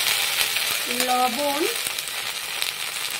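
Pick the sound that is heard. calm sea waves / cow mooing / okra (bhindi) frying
okra (bhindi) frying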